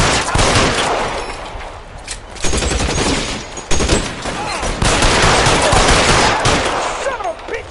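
Gunfire during a shootout in the video game L.A. Noire, dense and loud with overlapping shots and bursts coming continuously, sharp cracks standing out every few seconds throughout.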